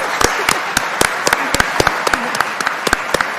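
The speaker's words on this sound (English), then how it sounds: "Let's have a round of applause for Beatrice." An audience claps in the Kennedy Caucus Room at a disclosure forum. The applause is sustained and moderately loud, with distinct individual claps standing out from a dense, steady patter.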